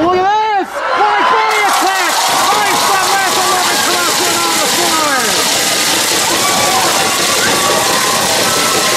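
A wrestling arena crowd at a six-man tag match cheers loudly and continuously, with whooping, rising and falling chants at first, then a dense, sustained roar filling the space.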